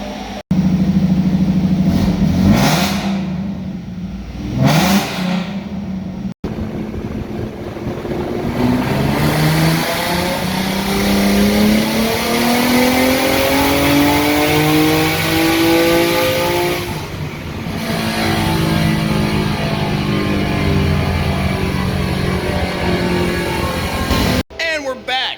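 A Ford Mustang S197 V6 fitted with a turbo kit revs on a dyno, the engine pitch climbing steadily in a long sweeping pull before dropping off, loud and close, with brief bursts at the start and end.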